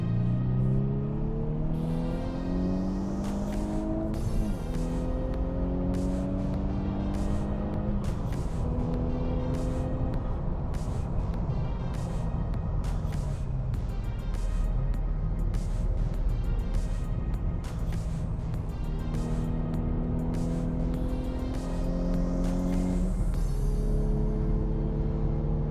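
A Volkswagen Scirocco R racing at Spa circuit drones continuously from the cabin, engine pitch climbing through each gear and dropping at shifts, with repeated rising-and-falling revs and the occasional faint pop.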